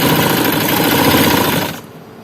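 A sewing machine stitches fabric for a looped neckline, running in a loud, steady, rapid mechanical whir close up that stops abruptly near the end.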